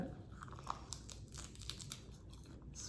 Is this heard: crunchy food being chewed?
yes